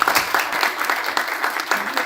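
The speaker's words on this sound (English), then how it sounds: "Can we get a round of applause for everyone?" An audience at a speakers forum applauds, a full, continuous burst of many people clapping, loud and close, with no talking over it.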